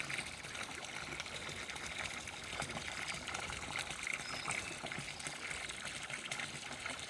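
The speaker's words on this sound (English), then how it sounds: "There's the volume of water coming out. That is a 1 1/4 inch hose." Water gushes steadily from a 1 1/4 inch hose fed by a small pond pump in a backyard fish pond, a constant close-up splashing pour with no pause across the whole stretch.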